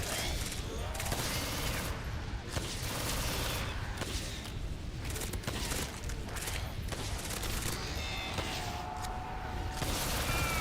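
Dense, rapid bursts of gunfire from players shooting zombies in a Halloween-themed video game, loud and nearly continuous, with overlapping shots and brief whooshes and no talk.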